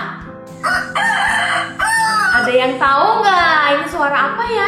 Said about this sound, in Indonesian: itu adalah suara ayam berkokok